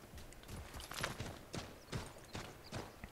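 Horse hooves clip-clop in Assassin's Creed 3 while riding through snowy landscape, a faint, regular rhythm of roughly paired hoofbeats with light ambient game sound.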